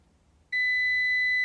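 Multimeter on continuity setting giving a single sustained high-pitched beep that starts abruptly and holds steady, loud and close, with no talk.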